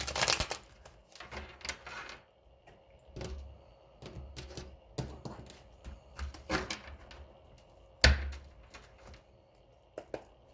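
Tarot cards being shuffled, a series of close, irregular riffling and tapping bursts with quiet gaps between them, no talking.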